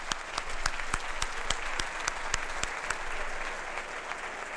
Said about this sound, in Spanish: Un aplauso a Fernando por su...